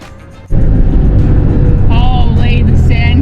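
Car driving on soft beach sand on an island shoreline, a loud steady engine rumble kicking in abruptly and holding, with a person talking over it.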